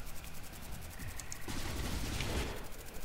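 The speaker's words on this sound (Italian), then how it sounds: "Sento dei colpi, dove sono?" Distant gunfire in a StarCraft 2 match, a continuous rattle of shots building in the second half amid other game sounds.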